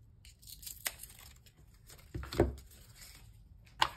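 A paper band is torn off a deck of oracle cards, giving a few brief, close ripping and crinkling sounds.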